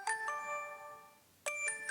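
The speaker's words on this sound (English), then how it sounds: "So another tick from me on those startup and shutdown chimes" A DJI Osmo Action 4 action camera plays its short melodic startup or shutdown chime, a few clear bright tones heard twice in quiet surroundings.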